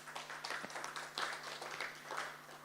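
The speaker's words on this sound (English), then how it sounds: "please give all the presenters a round of applause" Faint applause from an audience at a research week presentation session, a soft, steady wash of many hands clapping heard from a distance for the whole stretch.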